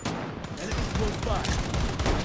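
Rapid bursts of gunfire in the game Blood Strike crackle in quick succession, dense and close, with scattered shots overlapping in a short volley.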